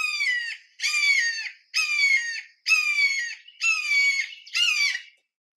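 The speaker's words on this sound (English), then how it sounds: "So I was going to play a typical red-shouldered hawk sound and see if you recognize this." Red-shouldered hawk calls played from a bird guide app: six loud, clear descending screaming notes in steady succession, each about half a second long and evenly spaced, with no talk over them.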